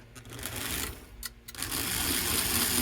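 A 1954 Northern #336 model locomotive motor runs in reverse, giving a fast, steady mechanical whir and rattle close by, briefly dipping before picking back up.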